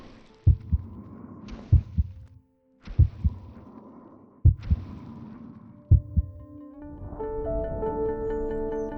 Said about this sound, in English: I want to hear my heart beat.